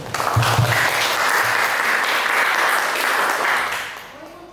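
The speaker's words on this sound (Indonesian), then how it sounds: "Berikan tepuk tangan bagi kita semua." Audience applause fills a business gathering hall, a dense steady wash of clapping that holds loud for several seconds before tapering off at the end.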